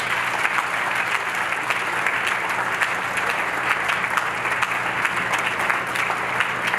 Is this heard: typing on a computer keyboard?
no